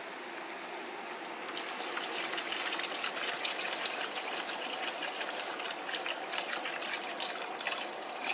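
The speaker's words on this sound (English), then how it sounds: "it's just the right time to add in the water" Water poured into a pot of boiling chicken curry for noodles, a steady splashing rush that swells after a quiet start and runs continuously to the end, close and alone with no talk.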